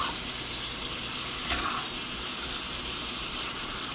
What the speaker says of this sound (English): We've got the fire under this last of the beef, and all of the onions are in.